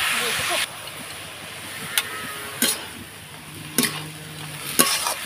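Banana stem (bhadal) being stirred and fried in a pan, a steady sizzle with a few sharp scraping stir strokes at intervals.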